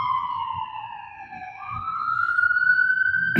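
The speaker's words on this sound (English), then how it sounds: "It's an ambulance." An ambulance siren passes, a loud wailing tone that sweeps down and then climbs steadily, carrying over a low background rumble.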